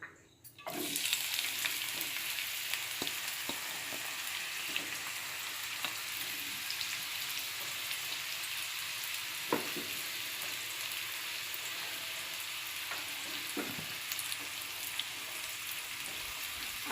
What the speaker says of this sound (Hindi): अब मैं इसे प्याज को नरम होने तक तेल में तलूंगी।